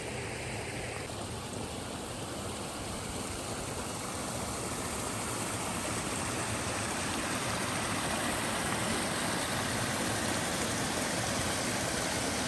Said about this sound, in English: This is where some of the water comes straight out of the rock.